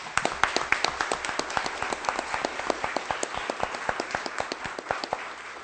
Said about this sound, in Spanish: para quien pido desde luego un caluroso aplauso